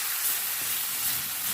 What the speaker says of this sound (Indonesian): Ini saya akan tumis tentu saja sampai harum ya teman-teman.